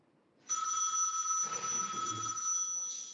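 A telephone rings in a courtroom during a live extradition hearing, a steady, loud electronic ring that starts suddenly and keeps going, with faint murmuring beneath it.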